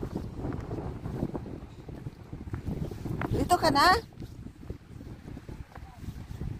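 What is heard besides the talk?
strong wind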